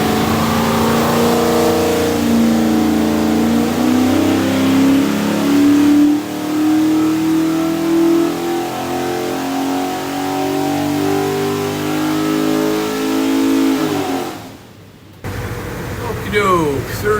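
A stack-injected 347ci Ford V8 for a 1962 Modena Spyder replica revs hard on a dyno, a loud, steady climbing roar that holds for about fourteen seconds before cutting off abruptly, then idling back briefly.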